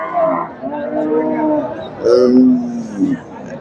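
A Friesian dairy cow moos at a Bangladeshi cattle market, a few close, loud lowing calls over crowd babble and people talking.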